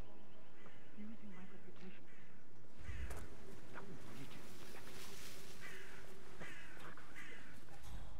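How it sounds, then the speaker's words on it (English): Crows cawing in the video game Hitman 3 near a graveyard, with repeated harsh calls over game ambience and a louder burst of noise partway through. "Get rid of the birds nesting in the graveyard."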